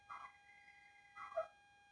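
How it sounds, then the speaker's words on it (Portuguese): A dog gives two short barks or yips about a second apart, faint and fairly close indoors, eager to be let outside. "Esse cachorro quer sair."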